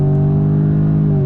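A 2021 Jaguar F-Type First Edition with a four-cylinder turbo engine accelerates on throttle as its 8-speed gearbox downshifts, giving a loud, steady engine drone heard close up from inside the cabin.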